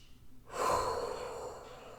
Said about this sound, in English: Let's just all take a little breath here.